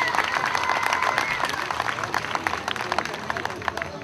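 Audience applause with scattered cheers at an outdoor town cultural Sunday opening in Aquila, greeting the town's queen; dense clapping holds steady and fairly loud throughout, with crowd noise and a few voices mixed in.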